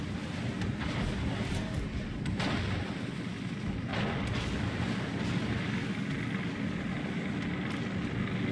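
Naval gunfire in World of Warships from the Brazilian Navy ship Jurua, a few heavy booming shots early on over a constant rumbling wash of wind and sea, with no talking.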